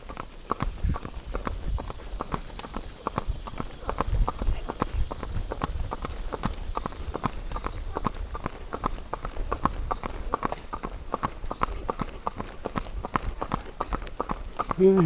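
Horse hooves clip-clopping steadily while being ridden along a road toward a Baptist church, an even walking rhythm of sharp close hoof strikes throughout.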